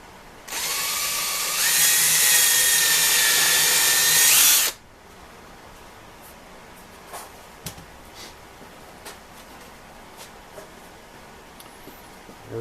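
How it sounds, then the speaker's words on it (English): A power drill whirs loudly for about four seconds while drilling out a rivet on a 1925 Ford Model T part, rising in pitch partway through, then cuts off, leaving quiet room noise with a few faint clicks. "Because I'm going to drill it again."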